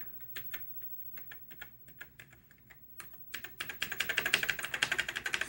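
Keys clatter on a flaky Commodore SX-64 keyboard, first as scattered, uneven clicks, then as a quicker, louder run of steady typing close by.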